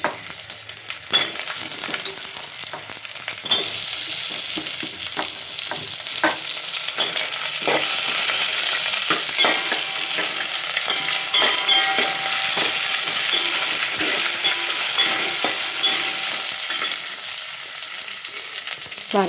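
Chopped onions hiss and crackle as they fry with fenugreek leaves in a pan, a loud continuous sizzle broken by frequent scraping stirs and light taps of the spatula, with no talking.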